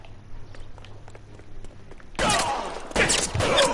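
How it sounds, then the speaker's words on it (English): Rapid bursts of gunfire laid down as suppression fire in the crime video game L.A. Noire, erupting loudly after a quieter stretch with faint voices, with a dense volley, a brief pause, then another heavy burst. "I'll lay down some suppression fire."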